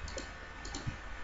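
A few light, quiet clicks of a computer keyboard as the Ctrl+J shortcut is pressed while working in Photoshop, spaced irregularly over a faint background hiss.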